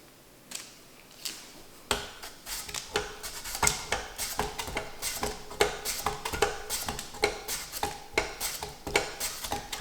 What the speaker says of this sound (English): I'm going to continue slicing these till I get them all done